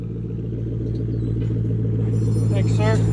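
Straight-piped Infiniti M45 V8 exhaust idling loud and close with a deep, steady rumble, while a voice talks over it near the end.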